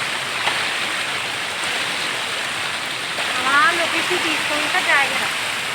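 Rampa waterfall in winter, water rushing over rocks in a steady loud hiss that fills the scene, while people talk over it in the second half.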